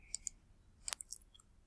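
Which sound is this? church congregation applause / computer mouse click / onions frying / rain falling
computer mouse click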